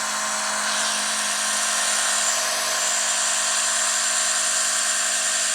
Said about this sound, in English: Ryobi little sprayer here. It's really nice, and it doesn't go anything too powerful like a real power washer.